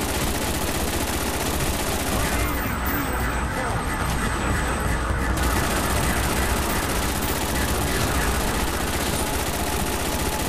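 RPK machine gun fire in Black Ops zombies on the Verruckt map, a dense, continuous rattle of rapid shots that runs loud and steady for the whole stretch amid other game noise.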